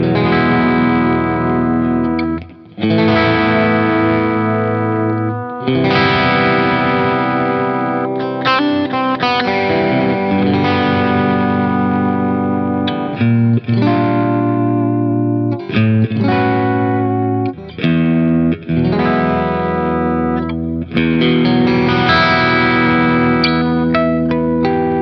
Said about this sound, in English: And with that, the clean sound sounds like this.